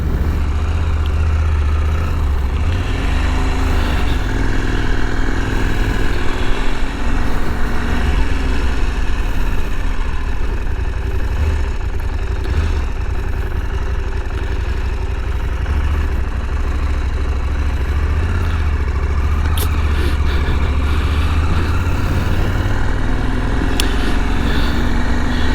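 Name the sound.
KTM 890 Adventure R motorcycle engine while riding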